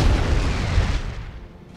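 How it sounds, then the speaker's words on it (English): A single cannon booms in Napoleon Total War, a loud low blast whose rumble rolls out and fades over about a second. "Why is it only one cannon that's"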